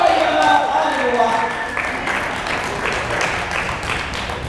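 An indoor audience at a church mission gathering in Hong Kong breaks into a broad wash of clapping that carries on steadily, with a voice speaking over the applause.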